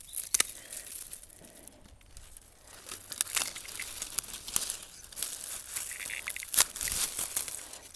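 Verbena bonariensis stems being cut back in a garden border, with dry crisp snips, rustles and crackles of stalks coming in irregular bursts, close and fairly quiet, with no talking.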